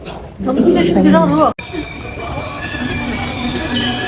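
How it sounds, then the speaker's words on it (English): A train arriving at a station in Korea: rumble and a steady metallic whine from the rails fill the space, with people talking over it near the start before a sudden cut. "The train is here."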